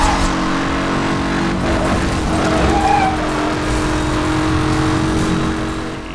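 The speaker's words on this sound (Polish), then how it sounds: "Mam nadzieję, że dobrze słyszycie dźwięk tego silnika, tego Veyrona." A Bugatti Veyron races in Need for Speed Hot Pursuit, its engine a loud, steady high-revving roar with tire noise and skidding layered over it throughout.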